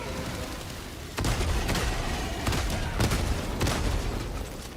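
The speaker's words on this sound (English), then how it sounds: "Just killed him with my autocannon" Heavy autocannon shots from Helldivers 2 boom in a steady series of loud, evenly spaced blasts over a rumbling battlefield background.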